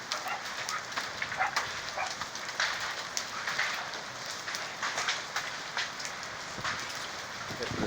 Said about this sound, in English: We got some big hail bouncing.